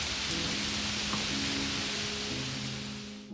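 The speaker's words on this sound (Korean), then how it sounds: "빗방울도 떨어지기 시작했어." Rain falls in a steady, fairly loud hiss throughout, an even wash of drops with a low hum beneath and no voices.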